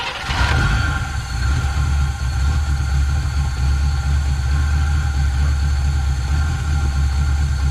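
A 1971 GMC 1500 truck engine, unstarted for 28 years, runs steadily after firing up, a loud, close, continuous low rumble with a steady idle throughout and no talking.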